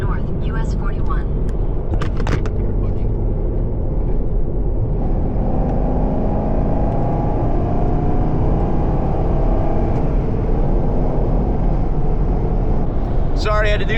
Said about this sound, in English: I'm gonna enjoy driving my fucking car